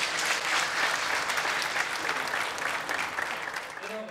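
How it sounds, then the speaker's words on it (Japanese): Audience applause at a women's professional bowling rookie tournament semifinal, steady dense clapping filling the whole stretch, loud and close, easing slightly toward the end with a hint of voices underneath. "小林よしみにも大きく拍手を送ってください。"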